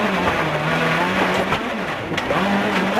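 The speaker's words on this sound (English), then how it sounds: "On stage 6 and the final stage of the day, Burkhardt was racing hard" A Citroën rally car races along a narrow Sardinian gravel stage, its engine droning loudly and steadily with small shifts in pitch and a brief burst of tire or gravel noise.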